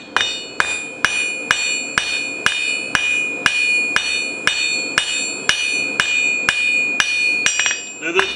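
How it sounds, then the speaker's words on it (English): A blacksmith hammers hot metal on an anvil to draw it to a point, a steady series of about fourteen ringing, evenly spaced metallic strikes, loud and close with a sustained high ring between blows. "while we're hitting the top. The anvil's hitting the bottom."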